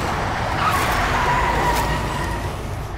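A car passing nearby, a loud, steady broadband road rumble and tyre hiss that swells and then eases slightly as it moves off.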